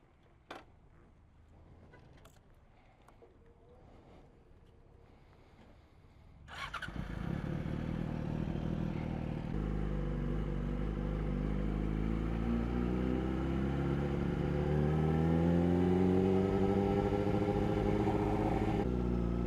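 A Yamaha R6 sport motorcycle engine idles quietly, then fires up loudly partway through and keeps running with a rising, revving drone close by.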